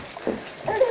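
A dog whimpers indoors near a couch, giving short, thin whines and yips that rise toward the end of the second, close and fairly clear over a faint room background.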